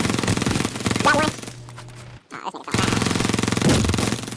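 Submachine gun fire in a video game: loud, sustained rapid automatic bursts that break off briefly, then resume just as fast and close.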